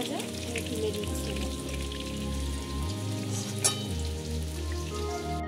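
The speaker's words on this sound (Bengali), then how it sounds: "এবার মাছগুলো আমি এরকম করে ভেজে তুলে নেব।" Bata fish frying in hot mustard oil, a steady close sizzle and crackle running continuously under a low tonal background hum, with one brief sharper spike midway.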